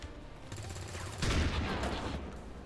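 Suppression gunfire in the video game XCOM 2: a sustained burst of automatic fire swells suddenly, loud and dense, then trails off over the following second amid game ambience.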